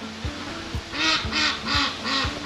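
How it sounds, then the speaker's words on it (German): Agitated ducks quack loudly near a church on the island of Rügen, a run of rapid, harsh calls repeating in quick bursts close by. "Guck mal hier die ganzen Enten. Eine Aufregung hier"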